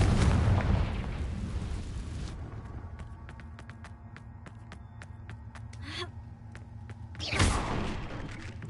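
Confringo spell explosion in Hogwarts Legacy, a loud fiery burst with rumble that tails off, followed by light clicks and a second strong whooshing blast near the end.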